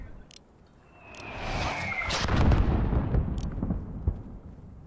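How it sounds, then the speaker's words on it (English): A mortar round whooshes in and bursts in Call of Duty: Modern Warfare, a swelling rumble that peaks midway and trails off with scattered distant cracks, no voices. "There's still a mortar out there."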